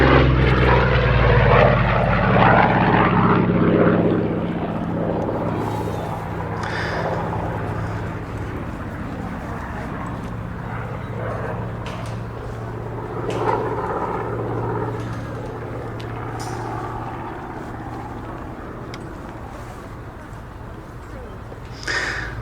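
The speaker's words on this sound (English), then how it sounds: "this was also an aircraft that saw much service with the Fleet Air Arm of the Royal Navy." Corsair WWII fighter flying at an airshow at IWM Duxford, its propeller engine drone loud at first then fading into a steady distant hum with crowd noise.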